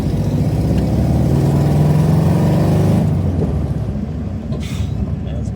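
A Subaru WRX in rough condition with aftermarket headers and a suspected power loss runs close by, its engine a loud, steady mid-pitched drone that eases off slightly partway through.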